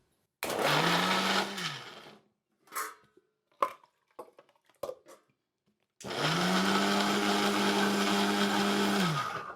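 A mixer grinder grinds onions into a paste, running in two loud, steady bursts with a short pause between them filled with faint clinks and handling noises.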